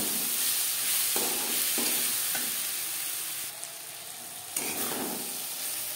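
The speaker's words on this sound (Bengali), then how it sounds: "সবজি ভাজা হয়ে গেছে" Vegetables fry in a pan with a steady sizzle while a spoon stirs and scrapes now and then, producing a few sharper clatters over the continuous hiss.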